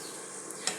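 Onions frying in a pan alongside vegetables for a lentil dish, a soft steady sizzle heard close up with one brief sharper crackle near the end.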